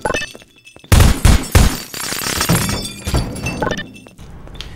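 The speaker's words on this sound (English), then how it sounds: "You can see the glass fragments fairly realistically where things go through it" Glass shatters repeatedly in the Half-Life 2 mod Havoc, loud crashes and breaking bursts followed by tinkling fragments and thuds, with several impacts in quick succession.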